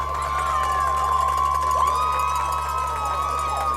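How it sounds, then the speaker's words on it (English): A high school football stadium crowd at a Cherokee versus Marietta game roars after a penalty call, a sustained, loud wash of cheering and shouting layered with steady tonal sounds. "Based on that crowd reaction, very loud here."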